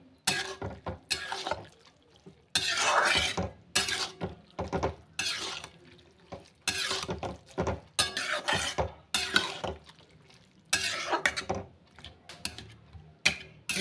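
Spiced fish curry being stirred and mixed in a pan, a series of irregular scraping and clattering bursts separated by brief pauses, fairly close, with no talking.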